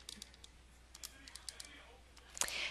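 Keyboard typing during a binomial probability lesson: sparse, faint key clicks scattered across the moment, ending in a brief louder burst of clatter.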